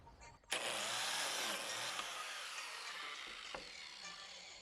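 Biscuit joiner plunging into a wooden plank during a table build, a sudden loud whine that starts abruptly and cuts steadily for several seconds with a couple of sharp clicks, close by.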